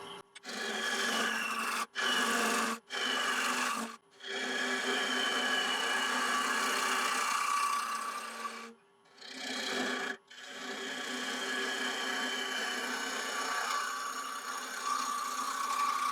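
An ash branch bowl blank spinning on a wood lathe around 800 rpm, a sustained whirring hum broken by several brief drops as it slows or the tool lifts off, with no talking.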